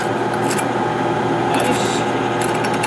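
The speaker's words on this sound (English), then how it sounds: "So I'm just drilling into a piece of wood just so I don't drill into my table." A power drill whirs steadily at close range, with a continuous buzzing motor sound and faint grinding as it bores through a piece of wood.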